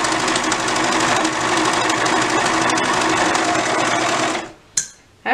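A home sewing machine runs fast on a bouncy, shaking table while stitching a dress, a loud rapid mechanical whir and rattle that holds steady for several seconds, then stops abruptly with a couple of short bumps after.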